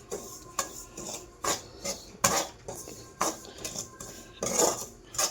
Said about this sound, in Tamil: ரவை வறுத்துட்டு இருக்கேன்